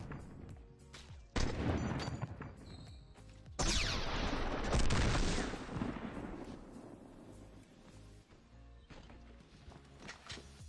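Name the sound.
gunshots from the video game Fortnite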